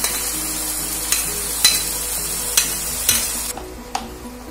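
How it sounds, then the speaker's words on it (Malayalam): Ground coconut paste is added to simmering yam erissery over a low to medium flame and stirred, a soft bubbling sizzle punctuated by regular scraping spoon strokes against the pot, with no talking. "നമ്മൾ എടുത്തു വെച്ചിട്ടുള്ള അരപ്പ് ചേർത്ത് നമ്മള് എരിച്ചേരി ഇതിലേക്ക് ഇട്ട് കൊടുക്കാം"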